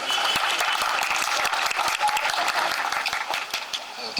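Dense, steady audience applause fills the whole stretch, welcoming a speaker to the microphone at the opening ceremony of a dental health center in Çekmeköy Taşdelen.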